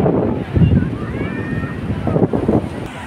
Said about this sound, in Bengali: এখানে আমরা দেখতে পাচ্ছি এই সমুদ্র তট, এই বালুচর, সমুদ্র সৈকত